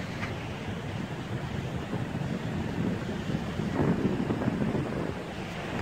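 Steady outdoor wind at Brainard Lake, Colorado, buffeting the microphone with a continuous low rumble and rushing noise throughout, swelling slightly near the end, with no voices.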